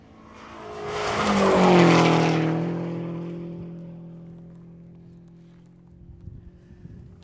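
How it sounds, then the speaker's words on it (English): Rally cars on a gravel forest stage of the Oregon Trail Rally sweep past a corner, one engine rising to a loud roaring pass-by with tire scrabble, then fading into the distance as the next car approaches. "ACP and Jeremy Wimpy chasing Will Orders."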